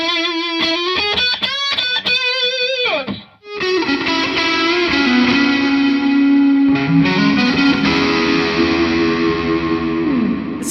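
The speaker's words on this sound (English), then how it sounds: "It sounds like a single coil that's like really heavily overdriven." A 2024 PRS SE NF3 electric guitar played on its neck pickup with heavy overdrive: a few quick picked notes, a brief gap, then long sustained distorted chords and notes ringing loud and alone, with no talking.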